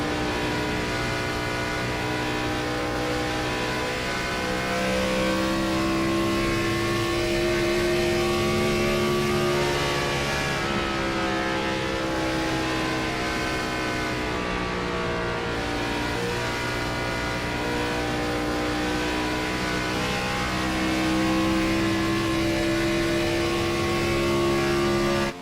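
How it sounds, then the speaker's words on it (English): A race car engine in a sim racing game at Atlanta holds a steady, loud, droning tone with only slight pitch shifts as it circles the track, with no talking over it. "it sounds like Eddie might not be in the throttle all the way."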